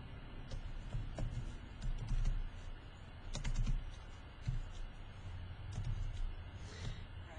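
Soft, quiet clatter of typing on a computer keyboard, irregular keystrokes under a steady background hiss, close but faint and without talk.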